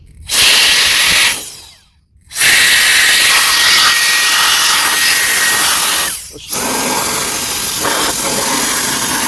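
A powerful turbo jet fan blows with a loud, roaring hiss, running steadily for several seconds with two brief cutoffs where the airflow drops out.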